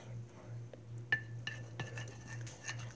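Homemade slime being stirred with black paint in a bowl, giving soft intermittent clinks and taps of a utensil against the bowl over a steady low hum, close and fairly quiet.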